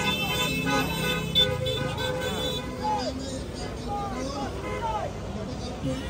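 Car and motorcycle horns honk repeatedly amid steady street traffic noise in the Philippines, sounded in protest against corruption, while a crowd's voices murmur underneath.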